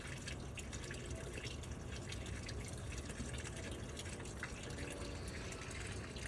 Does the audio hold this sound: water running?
yes